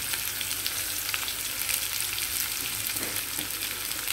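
Onions frying in a pan with turmeric and tempered spices for a bottle gourd fry, giving a continuous dense sizzle at steady level, close and without talk.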